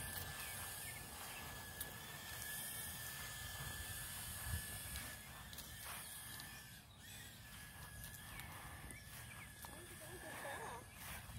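A SanRock tiny whoop drone flies outdoors against the wind, giving a steady, thin, high motor whine over broad airy hiss that holds level for the whole stretch.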